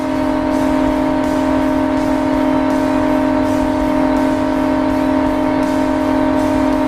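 Car engine in the mobile game Car Parking Multiplayer, held at a steady high-speed drone during a top-speed run near 266 mph, with a constant loud whine and no talk.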